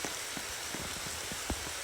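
Steady rain patters in the 99 Nights in the Forest video game, a dense hiss of falling drops with scattered louder taps on surfaces, heard on its own.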